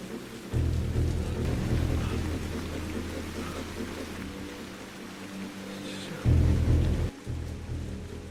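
Heavy rain pours in a dramatic film scene, making a dense, continuous hiss. Deeper rumbling surges swell near the start and again toward the end.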